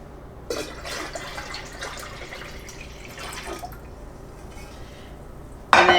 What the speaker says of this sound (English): So I'm gonna go ahead and pour this into my pot.